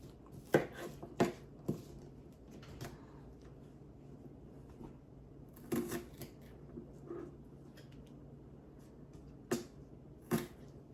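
A knife chops the tips off green onions on a cutting board in a home kitchen during Southern Thanksgiving dinner prep, giving a handful of separate sharp, close cuts in small clusters with quiet pauses between.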